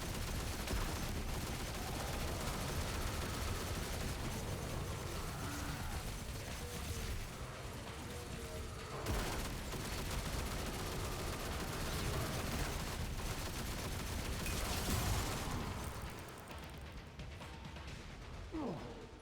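Sustained rapid machine gun fire in a video game damage test, a dense unbroken rattle of close, loud shots with brief gaps near the middle and end, no speech.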